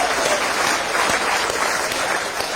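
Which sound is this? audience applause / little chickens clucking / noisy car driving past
audience applause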